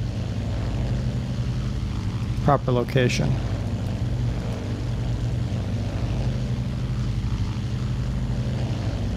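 Droning propeller engine of a Douglas World Cruiser biplane in a flight simulator game, a steady low hum with a tonal whine, continuous and loud, with brief clicks midway and someone speaking a word over it.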